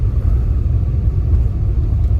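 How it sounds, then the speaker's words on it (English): A local bus rolls past on the road, a loud, steady low engine rumble held close by for a couple of seconds with no voices. "My local bus there."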